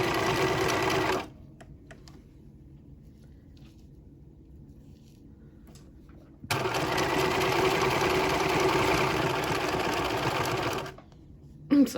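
A sewing machine stitches a small quilt collage in two loud, steady bursts, pausing in between while the needle is left down at a corner and the work is pivoted.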